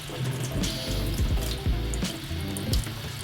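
Capsicums, including purple ones, are rinsed under a running kitchen tap: a steady splash of water with small knocks and shifts as the vegetables are handled.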